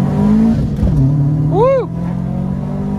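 A Subaru WRX wagon fitted with a VF48 turbo accelerates hard in first gear, its engine note climbing in a rising sweep, loud and close, then dropping back to a steady drone.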